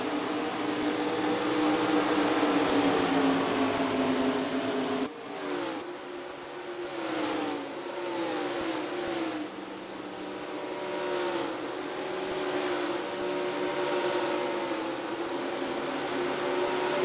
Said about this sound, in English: Coming down pit road. Got another group of cars here, to 54 Jordan Scout and 48 Jimmy.